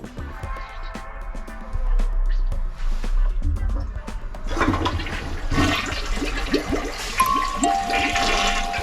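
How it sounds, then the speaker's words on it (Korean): A toilet flushes nearby with a loud gurgling rush of water that swells and churns for several seconds before settling. "저 옆에 저 변기물 한번 내려줘 보실래요?"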